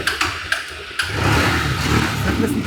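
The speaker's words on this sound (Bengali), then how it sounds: "সেলফে সেলফে টোকা টোকা স্টার্ট দিয়ে নিতে পারবেন" A blue Runner Knight Rider motorcycle with disc brakes starts on its self-starter: a few short clicks and cranking taps, then the engine catches and idles with a close, steady rumble.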